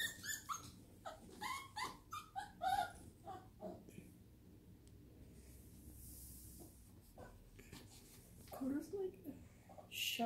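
A scared puppy whimpers in short high whines while another dog sniffs it, with soft snuffling and faint growls near the mic and a person talking quietly in between.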